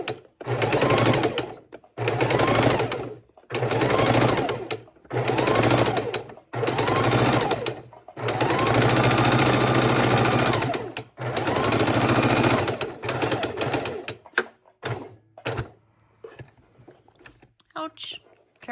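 Sewing machine stitching around a fabric heart sachet, loud close bursts of rapid needle chatter a few seconds long, separated by short pauses to pivot, ending in shorter stops and starts.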